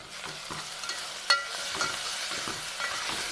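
Onion, green chilli, garlic, turmeric and salt fry quietly in a pan, a low steady sizzle with occasional soft scrapes and taps of a stirring spoon.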